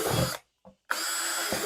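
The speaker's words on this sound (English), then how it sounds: "But let's put some drainage holes." A power drill bores drainage holes in a plastic bucket in two loud, close bursts of grinding whine separated by a short quiet pause with a faint bump.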